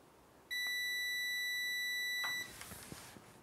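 A KT111 digital multimeter gives a continuity test beep, one clear steady tone lasting about two seconds in a quiet room, then a soft click as the probes lift.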